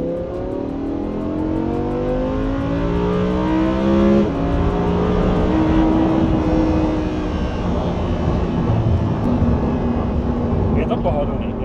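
A Lamborghini on a wavy, uneven road, its engine droning as it accelerates and shifts, with rising tones and rumbling tyre noise, close and steady while someone talks over it.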